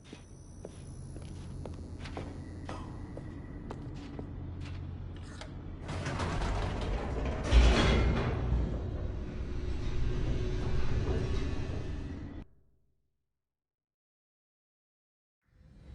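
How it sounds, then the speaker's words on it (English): An elevator in The Stanley Parable game descends with a low mechanical rumble and rattling, swelling louder midway with a heavy clunk, then cutting off into silence. "The elevator raced downward, plummeting towards an unknown fate."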